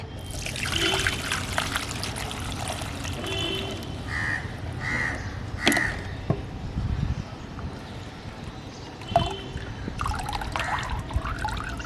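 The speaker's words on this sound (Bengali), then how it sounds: "এটা ভেজানোর পর ছেঁকে নেব একটা পাত্রে।" Soaked banana peel liquid trickles and pours as it is strained into a container, a steady wet dribbling with a few splashy bursts, fairly close.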